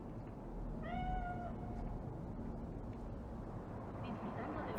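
A single cat meows briefly in Cyberpunk 2077 Phantom Liberty, a short faint cry that rises over a low, rumbling ambient hum with no other clear sounds.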